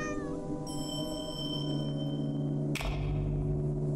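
A cat meows in the Burnhouse Lane video game, a drawn-out tonal call heard close and clear, with steady game ambience behind it and a sudden thump near the end.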